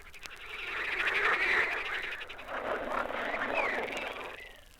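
Frogs croak in a pond as a storytelling sound effect, a dense and fairly loud chorus of rasping calls that swells and fades over a few seconds, with no talk.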